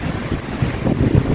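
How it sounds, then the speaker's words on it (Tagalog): Strong ocean waves surge and crash at a beach, a loud, continuous broadband roar with gusty wind buffeting the microphone and no voices. "Ang lakas ng alon."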